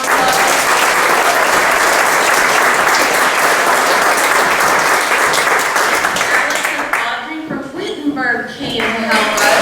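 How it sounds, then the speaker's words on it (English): Loud, sustained applause from an audience at an environmental awards event, dense clapping filling the room for several seconds before thinning near the end, with voices briefly audible as it fades. "Let's give them a round of applause."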